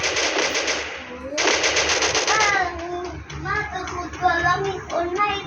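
Rapid automatic bursts from a gun turret in the Free Fire mobile shooter, two dense volleys of loud continuous firing in the first half, followed by tonal game effects and chimes.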